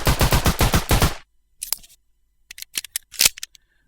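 Gunfire from a video game weapon: a fast burst of about nine sharp shots, then a pause followed by scattered clicks and clatters as the magazine is reloaded, close and loud with no talking.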